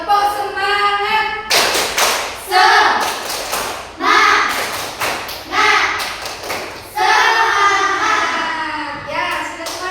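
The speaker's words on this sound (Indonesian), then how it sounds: "Yuk, tepuk semangat." A classroom of students stands and performs a rhythmic clapping chant to raise energy before a lesson, loud chanted voices punctuated by repeated close, sharp hand claps in a steady pattern.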